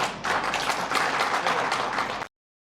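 An audience claps in a dense, steady round of applause lasting about two seconds, then it cuts off abruptly into silence.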